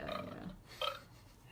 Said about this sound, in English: there's a good burp sound effect in there